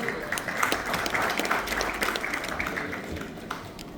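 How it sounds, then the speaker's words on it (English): Applause from a conference audience for a speaker at a datacenter technology event, a steady dense crackle of many hands clapping that runs throughout without a break. "Round of applause for our speaker"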